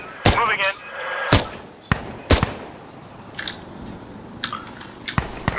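Loud gunshot bursts from a minigun in the video game Insurgency Sandstorm crack out in several separate sharp blasts, with quieter shots and faint voices in between.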